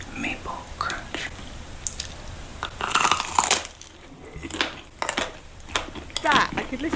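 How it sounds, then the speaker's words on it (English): Someone crunches into maple crunch ice cream for an ASMR recording, producing close, crisp bites and chewing crackles in irregular bursts, mixed with soft whispering and faint handling noises. "Somebody crunching into things for some reason."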